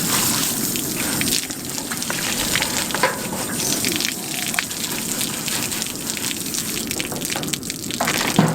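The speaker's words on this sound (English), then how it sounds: "I'm just going to rinse off the rabbit" Running water rinses a processed rabbit carcass, a steady close splashing gush with small irregular spatters throughout.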